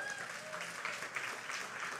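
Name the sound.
congregation clapping in church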